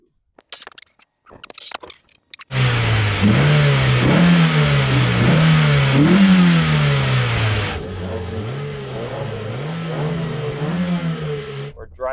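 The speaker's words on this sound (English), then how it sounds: "We're driving now with new motor mounts in." Toyota MR2 with new engine mounts accelerating from a standstill, its engine revving up through several gear changes and repeated pitch climbs, loud and close from inside the car after a few brief knocks and clicks.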